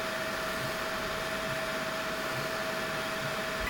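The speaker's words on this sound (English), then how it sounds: "Now the printer is doing the support ironing." A Creality 3D printer irons support structures, making a steady, continuous whirr of fans and motors with a faint, constant high tone throughout, and no talk.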